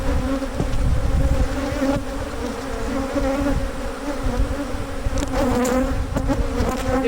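Dense swarm of honey bees droning around an opened hive while brood frames are pulled, a steady close buzz with wavering pitches, occasional sharper passes and light knocks, no talking.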